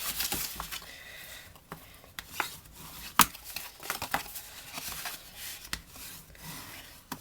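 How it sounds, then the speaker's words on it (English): Cardstock score lines on a gift card box being burnished, soft close rubbing and rasping strokes with a few sharper taps, uneven in rhythm and fairly quiet. "I'm going to burnish really well because it is a box and we are using cardstock."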